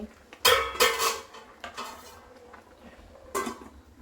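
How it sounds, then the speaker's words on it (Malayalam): Biryani being stirred in a metal cooking pot, with a few sharp scraping clanks of a spoon against the pot, then quieter shuffling and one more clatter near the end. "നമുക്ക് ഇളക്കിയിട്ട് വേവിക്കണം"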